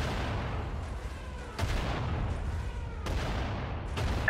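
Heavy booms of artillery fire in the video game Sudden Strike 4 thud repeatedly over a constant low rumble of battle, with a few sharper blasts standing out.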